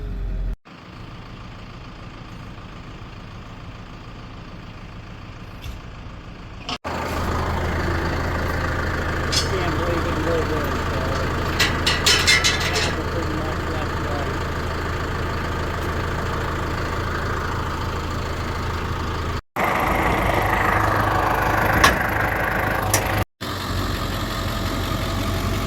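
A hotshot pickup truck engine runs at a steady, low idle-like rumble while the truck backs up to a garage, heard up close from inside the cab, with a few abrupt cuts and brief higher-pitched mechanical whines over the drone.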